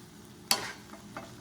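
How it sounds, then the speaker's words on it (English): A strained can of corn drops into a pan of hot vegetables with one sudden loud sizzling whoosh, followed by two softer stirring scrapes. "I'm going to be adding a full can of corn that I've strained."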